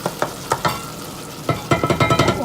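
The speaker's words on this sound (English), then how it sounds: "I don't want to saute them too much or else they're too soft." Vegetables for a homemade sauce are sautéed and stirred in a pan, with a steady sizzle broken by several sharp scraping strokes, first spaced apart and then coming quickly in a rhythmic run toward the end.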